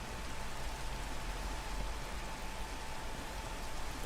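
Steady rain falling in Minecraft, an even hiss of continuous downpour with a faint steady tone beneath, loud and unbroken with no talking.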